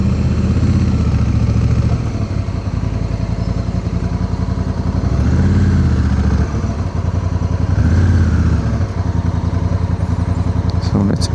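A 2025 Honda Africa Twin Adventure Sports motorcycle engine runs close by while the bike is being parked, a continuous low idling thrum with regular pulsing and faint clatter throughout.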